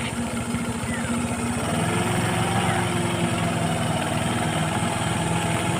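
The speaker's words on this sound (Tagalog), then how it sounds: "Saka yung wastewater treatment natin na pumping area, gumagana pa naman." The pumping area of a wastewater treatment station runs with a steady mechanical hum and a throbbing motor drone, heard nearby and unbroken throughout.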